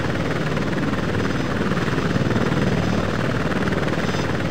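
An Apache Longbow attack helicopter in a combat flight game spooling up for takeoff, a loud, steady rotor thrum and engine roar filling the whole clip.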